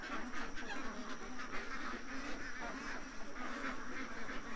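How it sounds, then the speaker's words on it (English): A flock of ducks near a back deck quacking excitedly, a dense, continuous overlapping chorus of busy calls at moderate distance, steady throughout without pauses. "the ducks are really getting worked up here."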